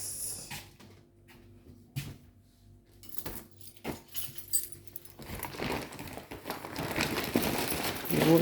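Keys are picked up and jangle in a few short metallic bursts amid quiet indoor handling noises, followed by louder rustling and shuffling movement.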